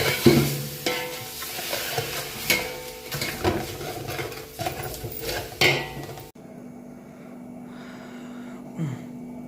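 Ginger-garlic marinated chicken frying in masala in a restaurant kitchen, with loud sizzling and repeated clanking of a metal spatula against the pan, then the frying cuts to a quieter background hum near the end.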